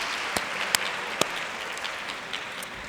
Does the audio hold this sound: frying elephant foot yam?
no